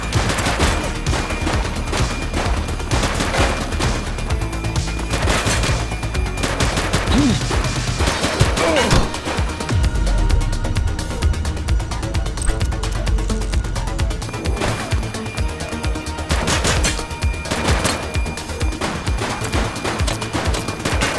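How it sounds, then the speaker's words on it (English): Sustained bursts of gunfire in The Precinct police game, rapid overlapping shots and crashes running continuously at close range and high volume, with dense broadband impacts throughout. "Shots fired!"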